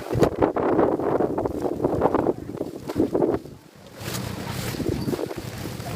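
Strong, gusty wind from a summer storm sweeps through an open-air market in Uttaradit, Thailand, roaring and buffeting close to the microphone, with a brief lull midway before it picks up again.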